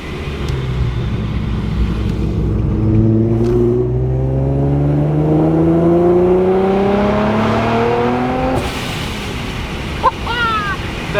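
A supercharged Infiniti G37x sedan accelerates at half throttle, its engine note climbing steadily in a rising whine through the gears, loud and close from inside, before wind noise and a brief voice follow.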